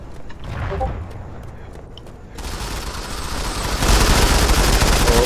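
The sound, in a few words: gunfire in the video game Modern Combat 5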